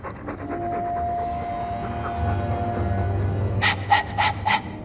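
A dog in Dragon Age II breathes and pants softly over a low ambient game hum, with a few sharper, louder huffs toward the end.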